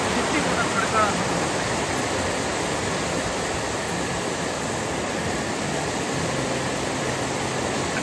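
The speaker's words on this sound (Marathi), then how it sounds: "या खळखळत्या पाण्यामधून आपणास किती आवाज येत आहे" Rushing, gurgling river water flowing over a rocky bed below a bridge in Kolad during the monsoon, a loud, steady broadband roar filling the whole stretch without letup.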